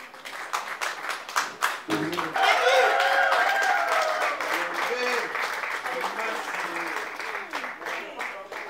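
Wedding guests at a civil marriage ceremony applaud as the groom stands, a steady roomful of clapping that carries on for several seconds with voices and chatter mixed in underneath.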